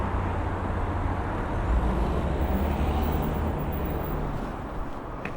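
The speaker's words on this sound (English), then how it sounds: "it's a very noisy junction now" Steady roar of road traffic at a busy junction in Rustington, with engines and tyres blending into a continuous wash of noise throughout, no voices over it.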